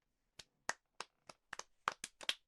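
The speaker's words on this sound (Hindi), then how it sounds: "तालियां।" A small group of children in a maths classroom claps in a short, sparse run of about ten separate sharp claps, quick and uneven, close and fairly quiet, with silence between them.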